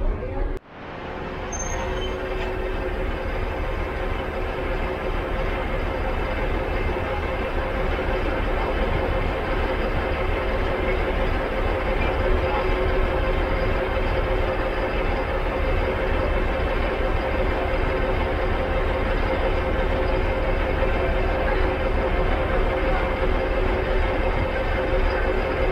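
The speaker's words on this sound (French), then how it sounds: "Il rajoute un wagon plus une locomotive." A railway train in Bulgaria, with a wagon and a locomotive being coupled on, gives a steady loud rumble and hum from start to end, with people talking over it.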